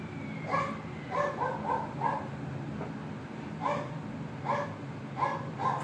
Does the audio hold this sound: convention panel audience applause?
no